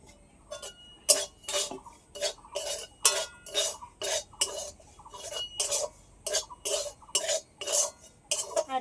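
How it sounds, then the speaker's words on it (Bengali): Ground neem leaves being stirred into salt in a pan, a steady series of close, sharp scraping clinks from a utensil against the metal, roughly two strokes per second, with no talking. "দিয়ে একটু হালকা নেড়ে নেব।"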